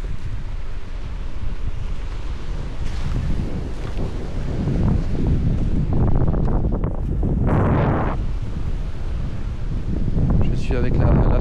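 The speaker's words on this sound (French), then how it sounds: "Il y a un peu de vent" Steady wind buffets the microphone with a constant low rumble and roar during an outdoor litter cleanup, while a person talks faintly underneath.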